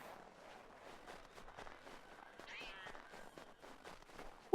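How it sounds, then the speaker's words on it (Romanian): A cat meows once amid faint, patchy footsteps and ambient game noise in Assassin's Creed 3 Remastered, the mew short and fairly quiet against the soft background. "Uite ce drăguț e pisica asta."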